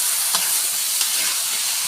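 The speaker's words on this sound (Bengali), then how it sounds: "সবজিটা কষাই নিব" Vegetables being sautéed with cumin, onion, garlic and ginger paste, a dense continuous sizzle with a couple of faint stirring scrapes, close and fairly loud, no voices.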